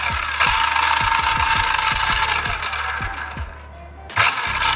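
Experimental 12V car motor in a small test car, running with a steady whir and a regular ticking rhythm of clicks, fairly loud and close, then dropping in level before a sudden burst of noise at the end.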